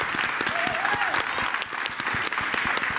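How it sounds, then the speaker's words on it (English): An audience at a Global Citizen event on protecting the Amazon and rainforests applauds steadily throughout, a dense wash of many hands clapping with cheers mixed in. "Can we get a round of applause?"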